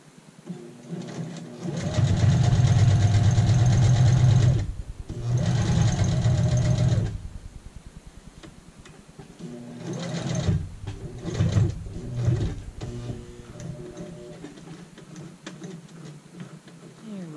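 Sewing machine stitching fabric for an apron, running in two loud sustained bursts, then a slower stretch of individual walked stitches with some mechanical ticking and faint talk.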